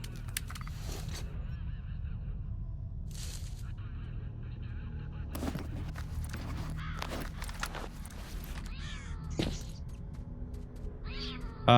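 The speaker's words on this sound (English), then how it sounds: "That's a cat." A cat meows in the STALKER game world, scattered short calls at moderate distance over ambient rumble and occasional footsteps.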